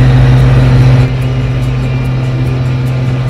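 An MB Trac 1300 tractor's engine drones loud and steady while driving, a constant low rumble with a slight dip in level after the first second, no voices.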